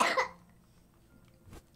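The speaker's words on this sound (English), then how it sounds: "Will you stop coughing?" A child gives a sharp cough, then a second, smaller cough follows after a short pause. Both are close and clear, with quiet room tone between them.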